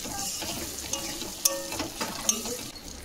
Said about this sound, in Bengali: এখন ওই তেলে দিয়ে দেবো আগে থেকে যে আলুটা ভেজে রেখেছিলাম আলুগুলো।